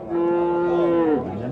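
A cow at a livestock market gives one long, loud, close moo that rises slightly and falls away, lasting over a second.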